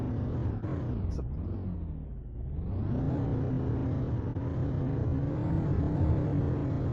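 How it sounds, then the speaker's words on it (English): A steady, droning vehicle engine in the video game The Planet Crafter hums continuously with a low rumble and a brief dip in pitch partway through, loud and alone without talk. "Not overly sure about the engine noise though."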